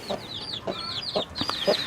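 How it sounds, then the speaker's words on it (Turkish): A hen and her chicks on a farm, with the hen's low rhythmic clucks repeating about four times under a steady stream of high peeping chick calls, close and clear. "Şimdilik asil civcivlerimiz burada."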